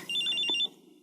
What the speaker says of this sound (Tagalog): Si Max, tumatawag sa cellphone ko